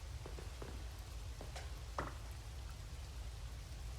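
Rain falls steadily in the farming video game Coral Island, a continuous soft patter with scattered droplet ticks over a low background hum.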